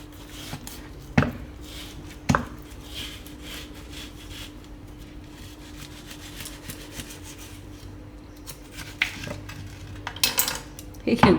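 Frozen melon ice cream being cut into pieces with a knife, sharp clinks and scrapes against a dish standing out over quiet rubbing, a few distinct strikes spaced across the stretch.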